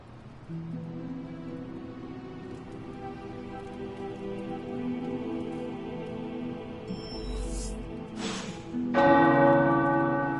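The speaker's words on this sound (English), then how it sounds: "The tower bells are ringing." Tower bells ring in a scene from the video game Midnight Suns, a steady sustained peal with rain-like hiss beneath, building to a louder, brighter strike near the end; no talking.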